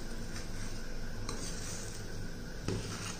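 Millet rice pulao with lemon juice being mixed in a pan, with a steady soft scraping and stirring texture and a few light clinks of a utensil against the pan, close and without talk.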